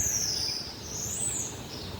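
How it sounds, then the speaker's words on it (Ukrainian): Birds sing in the morning outdoors, one thin, sweeping high whistle rising and falling over soft, steady background noise. "А як пташки співають?"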